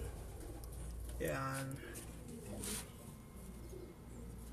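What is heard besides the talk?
racing pigeons cooing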